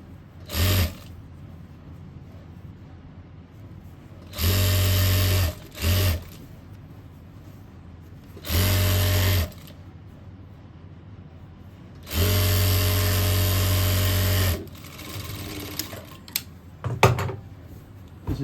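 Sewing machine stitching along the edge of a pocket opening on a boy's cord set, running in several loud bursts of steady mechanical whirring separated by short pauses, with brief quieter clicks between runs.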